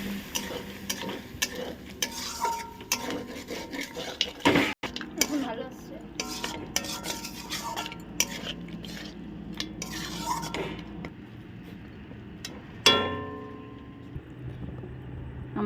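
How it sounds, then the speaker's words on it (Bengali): Spoon stirring and scraping goat leg pieces sautéing with spices in a pan, with steady sizzling, repeated metallic clinks and scrapes, and one sharp knock near the middle. "ভালো করে নাড়া দিয়ে কষিয়ে নেব।"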